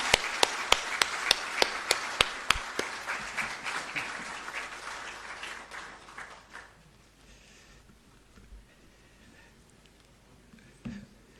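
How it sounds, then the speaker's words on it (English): Audience applauds at the swearing-in ceremony of Ghana's Chief Justice at Jubilee House. Crisp, dense clapping starts strongly, then thins and fades away over several seconds, with a few scattered claps at the end. "Let's give him a round of applause."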